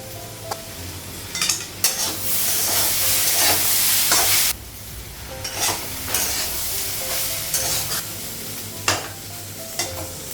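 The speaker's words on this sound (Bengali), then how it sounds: "আলু ভাজাটা হয়ে গেছে" Potatoes fry in a pan on a gas stove with a steady, close sizzle and hiss, broken by repeated stirring scrapes and occasional utensil clinks.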